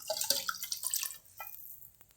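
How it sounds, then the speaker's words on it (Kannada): Water poured into a pot of sambar with cooked vegetables and toor dal, a short bright splashing and trickling that is fairly close, tapering off after about a second and a half. "ಈಗ ಸ್ವಲ್ಪ ನೀರು ಹಾಕ್ತಾ ಇದ್ದೀನಿ"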